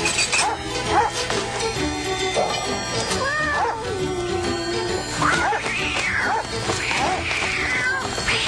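A cartoon dog in a Tagalog-dubbed Cinderella barks and yips repeatedly in short, close bursts. The barking is mixed with other animated animal vocal sounds and background score.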